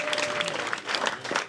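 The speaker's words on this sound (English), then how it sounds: "Let's start clapping. Let's lift it up. Make some noise for Muhsin." Comedy club crowd in Liverpool claps and cheers for the next comedian coming on stage, a dense, lively burst of applause throughout with no talking.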